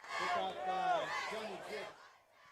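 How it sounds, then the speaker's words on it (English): The Bomber cheer squad at a high school football game between Macomb and Farmington yells together in a loud, chant-like cheer, rising and falling for about two seconds before fading out. "Let's get fired up from the Bomber cheer squad"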